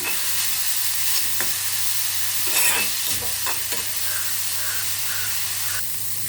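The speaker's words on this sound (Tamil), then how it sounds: "முள்ளங்கியுடைய ஈரத்தன்மை போகிற அளவுக்கு நல்லா வறுத்துப்போம்" Radish frying in coconut oil for chutney, a steady close hiss of sizzling with regular clicks and scrapes as it is stirred in the pan.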